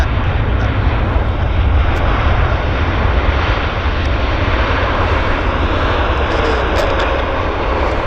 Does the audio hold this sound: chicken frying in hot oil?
no